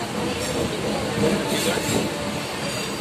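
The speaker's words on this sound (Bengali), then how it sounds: "এটা হচ্ছে নৈহাটি লোকাল, আমাদের সন্তোষপুর টু নৈহাটি লোকাল।" A Naihati local suburban passenger train runs along the line, heard from inside as a loud continuous rumble and rattle of wheels on track with faint squealing, steady throughout.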